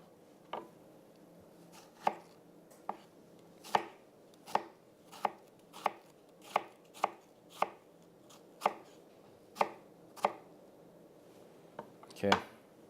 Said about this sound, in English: So the onion still got the root and is very stable. So it's then really easy to chop.